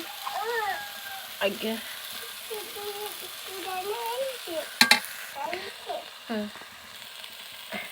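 Banana flower paste frying in spiced oil in a pan, with a steady sizzle and the scrape of stirring, sharp utensil clatters near the middle, under speech throughout.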